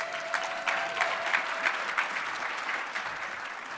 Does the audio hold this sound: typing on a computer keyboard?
no